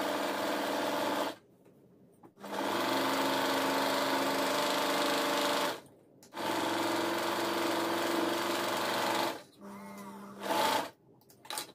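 Sewing machine stitching along the top edge of a blouse, main cloth and lining together, running in three loud sustained bursts separated by short pauses, with brief quieter gaps between runs.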